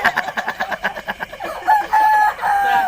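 A chicken clucks in a quick rhythmic series of close, fairly loud calls, then gives a longer drawn-out crowing note, alone with no talk over it.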